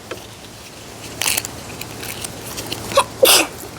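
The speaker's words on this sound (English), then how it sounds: "Oh, you sneezed." A child sneezes twice in a quiet room, a short burst near the middle followed by a sharper, louder sneeze toward the end, set against faint background rustling.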